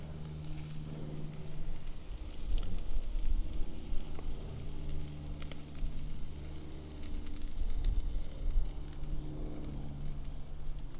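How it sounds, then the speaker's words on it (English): Grill flare-up sizzling under beef short ribs, a constant crackling sizzle with soft pops, swelling and easing in a few slow waves, close and fairly quiet. "Just a touch of flare up there, not too bad."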